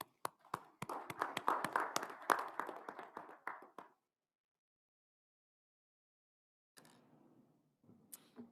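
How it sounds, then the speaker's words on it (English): A small group claps for a few seconds at a school board meeting, the applause fading out into silence, followed by faint shuffling noises. "I want to applaud you personally"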